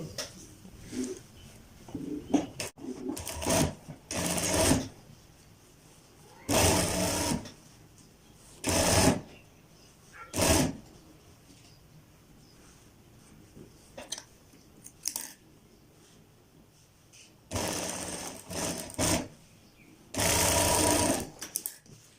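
Sewing machine stitching a kalidar kurta, running in repeated short bursts of a few seconds each with quiet pauses between, close and fairly loud.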